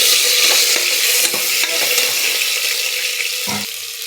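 A spatula scrapes and stirs through ginger garlic paste sizzling steadily in a hot frying pan, close up, with no talking.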